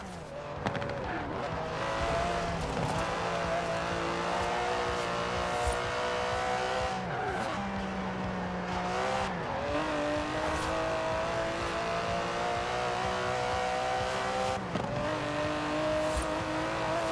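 Twin-turbo 5.2-litre V12 of an Aston Martin DB11 in Forza Horizon 4, holding a loud steady engine drone that rises and drops through gear changes, with tire squeal and skids among race-car ambience throughout.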